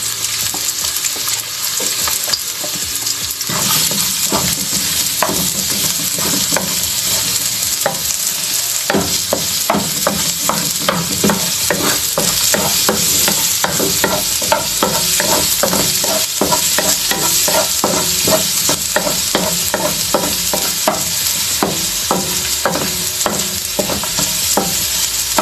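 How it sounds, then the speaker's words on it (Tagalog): Minced garlic sizzles in a hot wok, a loud continuous frying hiss overlaid with repeated scraping strokes of a utensil stirring the pan, steady and close throughout with no talking. "Init na ating wok. Maglagay tayo ng minced garlic."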